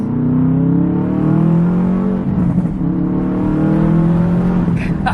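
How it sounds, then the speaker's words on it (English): A Subaru WRX STI engine revs up steadily and loudly from close by, its carbon exhaust note rising and falling with a few crackling pops. "We'll do a little pull for you guys. Ooh, got the pops."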